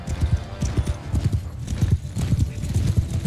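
Horses galloping in the video game Mount & Blade II Bannerlord, a dense rapid clip-clop of many hooves close by with an occasional neigh, while someone talks over it.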